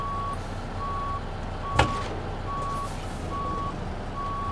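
Steady reversing beeps pulse at an even rhythm from a truck backing up to line up with a trailer in Euro Truck Simulator 2, over a low engine hum, with one brief louder thud midway.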